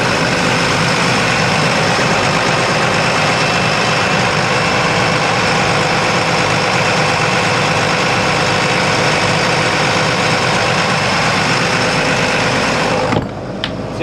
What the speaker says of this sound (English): They're loud, so I mean there's like 3 inches of material between us and those engines right now, but even that, it's still super loud.